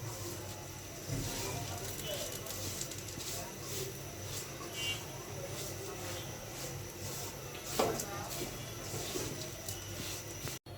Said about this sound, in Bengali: এবার আমি ঘির ভিতরে ভালো করে ভেজে নিব